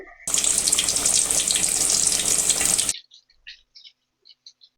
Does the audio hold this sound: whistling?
no